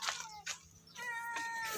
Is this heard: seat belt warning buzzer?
no